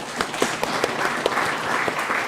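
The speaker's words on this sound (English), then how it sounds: "Let's give all ourselves a good round of applause" Seminar audience applauding at a corporate sustainability seminar, a dense, steady clatter of many hands with a few sharper claps standing out, close and sustained throughout.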